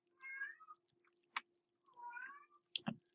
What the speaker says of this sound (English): One of my cats is in heat,